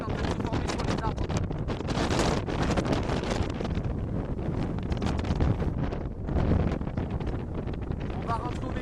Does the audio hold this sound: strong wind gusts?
yes